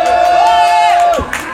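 Festival crowd at Hûnekop Festival XXL in Drachten cheering and applauding for a singer, a loud held whoop riding over close crowd noise for about a second before dropping away.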